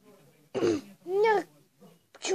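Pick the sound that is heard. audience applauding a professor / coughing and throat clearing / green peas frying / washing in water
coughing and throat clearing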